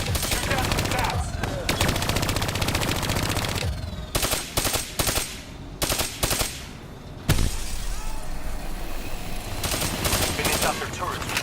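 Call of Duty: Black Ops 3 gunfire, loud rapid automatic bursts and fusillades, continuous at first, then broken into short rattling volleys separated by brief gaps, close and dominant.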